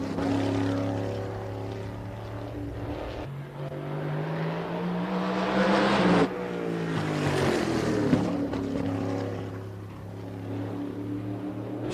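A supermodified race car roars around Oswego Speedway during time trials, its loud, sustained engine note rising and falling in pitch as it passes through the laps, with no talk over it.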